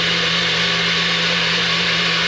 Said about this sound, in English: I take a scoop of my AG1 and I put it in the blender with some frozen fruit and some lemonade